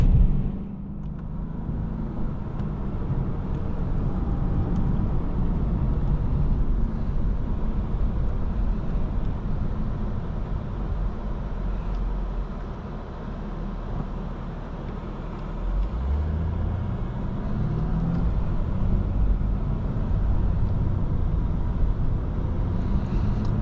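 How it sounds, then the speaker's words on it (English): A 2016 Lexus RC 300 F Sport AWD with its V6 engine drones steadily from inside the cabin while driving, a continuous low-pitched road and engine rumble that dips slightly mid-drive and rises again, with no talk. "Sounds really good. Great sounding engine."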